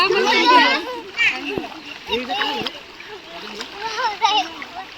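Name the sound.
water splashing as a child gets into water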